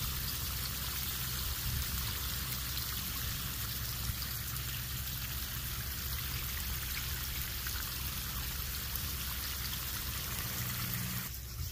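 Continuous hiss and patter of water from a garden hose spraying onto soil in a raised garden bed, steady for several seconds, close by and without speech.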